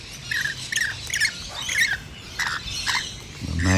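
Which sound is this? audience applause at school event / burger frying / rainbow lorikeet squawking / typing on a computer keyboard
rainbow lorikeet squawking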